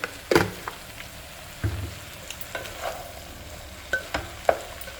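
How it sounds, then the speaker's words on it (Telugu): Brinjal and pea curry is stirred in a pan, with a spoon scraping and knocking in scattered strokes while a soft sizzle of frying continues underneath, close and fairly quiet. "ఇప్పుడు ముక్కలు బఠానీ అంతా బాగా కలిసేలాగా కలుపుకోవాలి"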